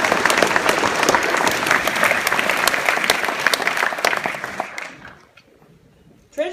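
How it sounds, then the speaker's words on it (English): Loud, dense applause from a crowd at a middle school graduation fills most of the clip, then drops away abruptly to near silence, with a brief noise returning at the very end. "A round of applause"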